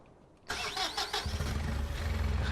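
A telehandler's diesel engine cranks briefly with a whirring starter, catches and settles into a loud, steady close-up idle with a rhythmic low throb.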